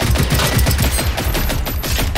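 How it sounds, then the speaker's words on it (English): Automatic gunfire in the video game Generation Zero, a loud, rapid stream of close shots firing continuously without pause for a couple of seconds. "He's just shooting random stuff now."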